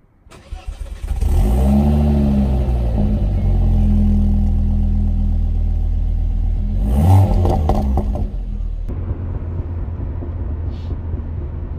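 A Mk2 Ford Focus ST turbo engine with a new Airtec downpipe starts warm and settles into a loud, deep idle, revving up briefly before dropping back to a lower rumble.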